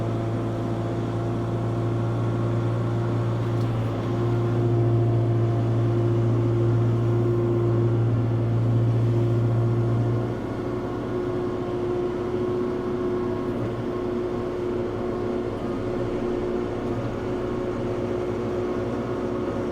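A snow blower engine runs with the PTO engaged, a loud, steady drone close by that shifts in pitch partway through as the RPM is turned up, with no talking.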